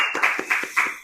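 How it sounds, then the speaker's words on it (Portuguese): A few hands clapping at a church gathering, four distinct sharp claps at an even pace, close and fairly clear, with quiet gaps between each. "Uma salva de palmas."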